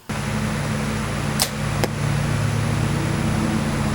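A heavy arrow fitted with matched feathers is loosed from a bow, giving a quick, sharp snap followed by a second brief crack, both quiet and over a steady outdoor hum with no voices.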